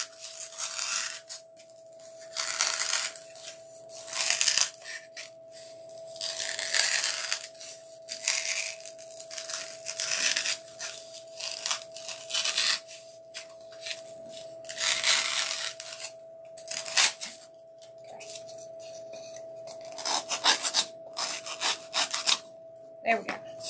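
A small crow decoration being cut down for a Halloween craft: repeated rasping, saw-like strokes in uneven bursts with short pauses, close by over a faint steady hum.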